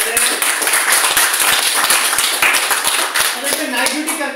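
A crowd at a company business event claps again for a star leader, a loud, close, steady round of hand claps with distinct individual slaps and faint voices underneath.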